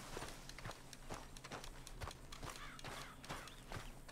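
A horse's hooves clip-clop in a steady trotting rhythm in Red Dead Redemption 2, the even footfalls sounding at moderate distance over a low background hum, with no talk.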